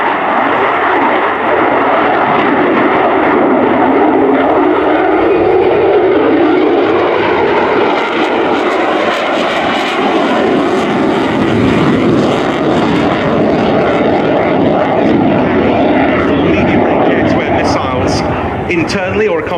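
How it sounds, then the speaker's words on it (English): An F-35B Lightning II jet roars loudly and continuously during an air display at RIAT 2024, its engine tone rising and shifting as it maneuvers, while a commentator talks over the public address throughout. "Now, what we should be seeing next is the aircraft turning back in down the runway"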